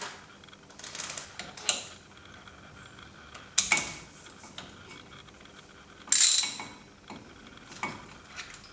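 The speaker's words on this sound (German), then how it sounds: "Dazu nimmt ihr einen 5er Imbus und fahrt hier rein." A 5 mm Allen key working loose a wheel bearing bolt on a Mercedes (W126, W123, W124 era), giving a few sharp metallic clicks and scrapes against a quiet workshop background.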